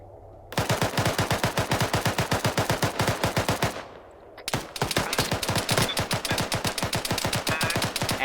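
Sustained automatic fire in the military shooter Arma 3, with rapid, evenly spaced loud shots in a long burst, a brief pause, then another long continuous burst close up.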